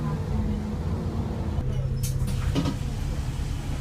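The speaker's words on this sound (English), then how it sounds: "so I got on my second bus" Bus ride with a steady low engine rumble and road noise throughout, a brief hiss and door-like clatter partway through, and faint voices in the background.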